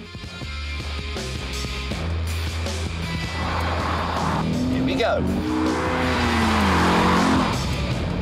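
An Alfa Romeo 159 accelerates hard along a motorway, its engine droning steadily and rising through the gears, with a brief rush of passing traffic midway; someone speaks briefly over the engine at the start.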